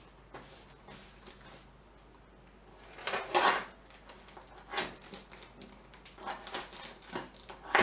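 A blunt craft knife working through plastic packaging, with scattered scrapes and clicks before a louder rasping cut and a string of sharp crackles and pops, close by, with no talk.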